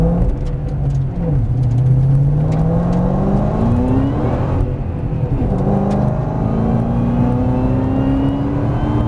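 A Ford Mustang Shelby's engine revs and accelerates on a drift course, its loud, close rumbling note rising through the gears and swooping up and down as it slides, with no talk over it.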